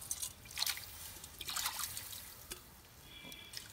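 Water is poured into an uruli to cook lentils for payasam, coming as faint, short trickling splashes in a few separate bursts with quiet gaps between them.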